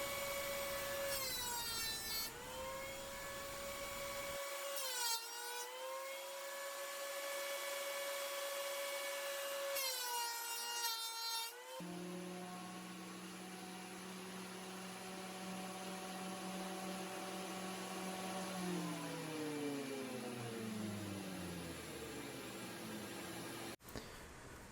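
A saw rips a wooden board lengthwise into a narrower strip in a wood shop, loud and continuous, with a whining tool tone that rises and falls in several passes before a steady cutting drone.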